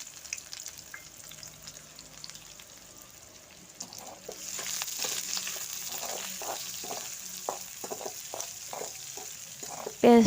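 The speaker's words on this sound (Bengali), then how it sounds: "লাল লাল হয়ে গেলে এর মধ্যে দিয়ে দেব পেঁয়াজ কুচি। পেঁয়াজটাকে এখন নেড়ে চেড়ে নেব।" Chopped onions go into hot oil for Bengali egg bhuna, with a quiet lead-in giving way to a steady moderate sizzle and rhythmic spatula stirring and scraping against the pan.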